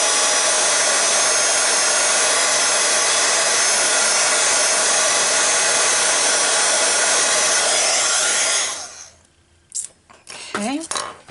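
A heat gun blows continuously for heat embossing, a loud steady roar that cuts off near the end, followed by brief clatter and faint voice.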